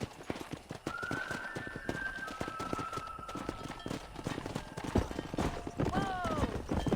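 Horse galloping in the Red Dead Redemption video game, rapid rhythmic hoofbeats throughout with a brief whinny near the end, mixed with game sounds and background music.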